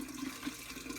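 Hot water runs steadily into a basin for hand laundry, a soft, continuous splashing pour, faint and close.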